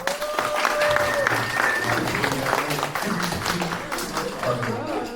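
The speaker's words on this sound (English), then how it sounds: "if you guys are in favor, please clap." Audience applause voting for a favorite performing group at a coding event, with brisk clapping from a crowd alongside some cheering voices and a high whistle-like tone early on.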